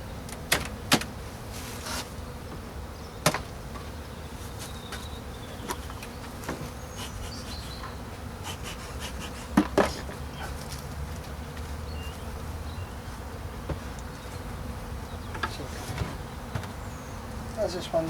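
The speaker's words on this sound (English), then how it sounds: "A few more bees we're getting onto." Honey bees buzzing around an open hive during an early spring inspection, a continuous close swarm drone with individual bees zipping past the microphone, plus occasional knocks and clicks from handling frames, and someone speaking quietly at times.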